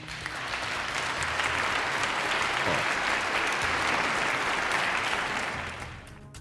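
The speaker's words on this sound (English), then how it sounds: "give him a round of applause, people" Audience applause at a spoken talk, a dense, steady wash of many hands clapping that holds for about six seconds before tapering off, with a brief voice at the end.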